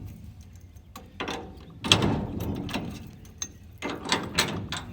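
On a restroom trailer, pins are pulled and wheels removed, giving metallic clanks, ratcheting clicks and scraping bursts at irregular intervals, close by.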